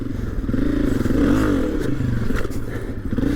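A 2022 Honda CRF250F dirt bike picks its way over trials-style rocks, its engine loud and close with a throaty, revving drone that rises and falls as it climbs, mixed with clattering over the stones.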